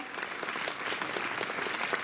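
An audience claps in honour of Dr Sudha Kankaria at an award ceremony for her children's theatre work: dense, even applause fills the whole brief stretch.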